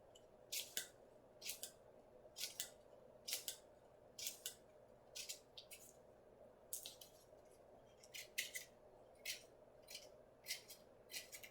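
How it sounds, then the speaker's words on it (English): Small scissors make quick, crisp snips through tissue paper for a spring tree craft, cutting little slits in steady rhythmic pairs and clusters. The snips are close and fairly quiet, with no talking. "we're just going to snip, do little tiny snips about halfway down"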